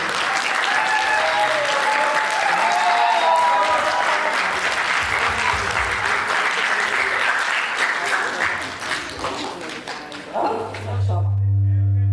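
Audience applause welcoming people onto a stage at a real estate networking event, sustained and fairly loud, thinning out near the end as a voice comes back in over a low hum.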